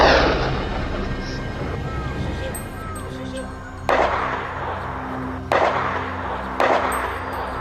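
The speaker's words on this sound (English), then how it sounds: "The sound of gunfire echoed relentlessly" Gunshots during a wild boar hunt in Morocco, three sharp loud blasts spaced a second or two apart after a stretch of rumbling outdoor noise, each with a short echoing tail.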